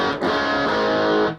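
An electric guitar runs through a used Boss Katana MK1 amp on the lead channel with gain set low, sounding a distorted chord that rings and sustains for about a second before cutting off.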